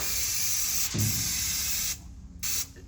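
Close hissing bursts of an aerosol spray can lightly spraying aluminum, a long steady spray followed by a pause and one short final spritz, with no talking.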